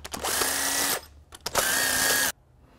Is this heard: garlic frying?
no